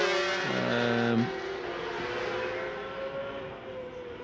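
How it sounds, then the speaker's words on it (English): Superstock-engined racing motorcycles scream past at the Macau Grand Prix, a loud sustained engine whine with pitch sweeping down as a bike passes, then a steady roar of several machines. "Majority of this field racing on superstock engines."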